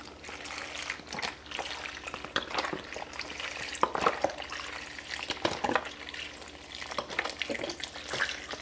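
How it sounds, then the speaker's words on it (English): Beef broth pours steadily into a crock pot with a continuous close, trickling, splashing wash and faint clinks, and no voices. "I'll add 1 container of beef broth to my crock pot."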